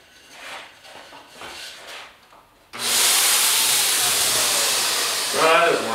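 A Wagner Flexio 590 HVLP paint sprayer starts up with a sudden loud, broad hissing rush while spraying onto drywall, holding steady for several seconds after some quieter handling sounds beforehand.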